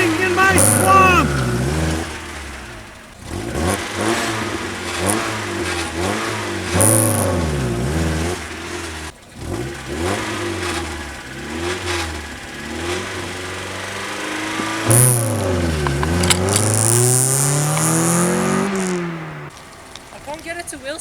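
A car's engine revs repeatedly in rising and falling surges as the driver tries to break the wheels loose for a drift, with people talking over the engine between the revs.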